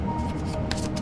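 Tarot cards being shuffled and drawn, a brief close riffle of rustling, flicking card sounds.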